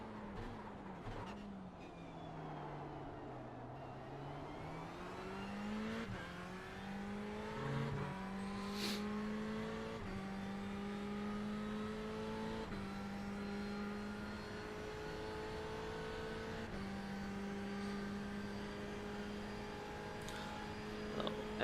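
A race car engine drones steadily in a VR racing game, its pitch dipping briefly and then rising and holding high as the car accelerates down a long straight, with upshifts stepping the tone.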